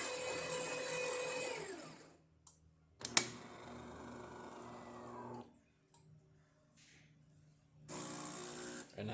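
A serviced DeLonghi Magnifica espresso machine grinding coffee: a whirring grinder runs for about two seconds and winds down, then a click, a quieter mechanical hum with pauses, and the motor starting up again near the end.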